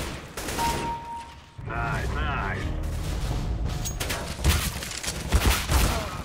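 AK rifle gunfire in CS:GO, with bursts of shots and impacts that grow louder and more frequent toward the end, heard beneath continuous talk and game sounds.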